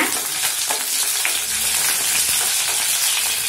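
Mustard seeds, urad dal and chana dal sauté in hot oil for paniyaram seasoning, giving a continuous bright sizzle with scattered crackles and pops, close and steady throughout.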